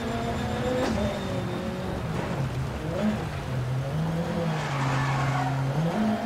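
Rally car in Dirt Rally 2.0 rallycross at Silverstone in heavy rain, engine droning and wavering as the tyres skid and slide through a corner, steady and continuous with no talk.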